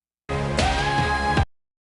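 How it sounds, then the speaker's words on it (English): A kiss sound effect plays from a button on a V8 USB sound card: a single short voiced smack with a rising, sliding pitch, loud and isolated, lasting just over a second before silence. "that definitely sounds like a kiss"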